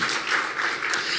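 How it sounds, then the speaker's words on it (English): Brief, steady audience applause at a Zeitgeist Movement ZDay 2017 event in Brisbane, dense clapping lasting about a second. "this applause goes for you"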